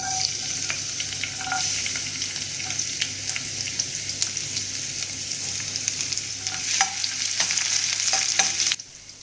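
Chopped garlic sizzles and crackles steadily in oil in a pan, with occasional sharper pops and a brief stirring scrape, close up and continuous without speech.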